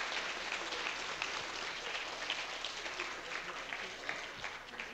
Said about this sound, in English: every one of them deserve one final applause